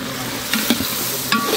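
Mutton biryani is stirred in a small pot with added yogurt, giving soft scraping sounds and a few sharper clinks over a faint sizzle, brief and close.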